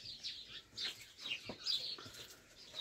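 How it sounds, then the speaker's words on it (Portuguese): Small birds chirp in an outdoor garden setting with chickens nearby, a steady scatter of high, bright calls repeating throughout at moderate distance with no one talking. "É, os passarinhos."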